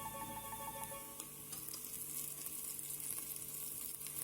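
Onions fry in a pan with a continuous, even sizzle that runs the whole way through, with faint stirring scrapes and no talking.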